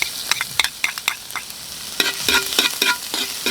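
Garlic sautés in a hot pan for Filipino binagoongan pata: a continuous sizzle punctuated by sharp, irregular scrapes and clicks of a utensil stirring close by.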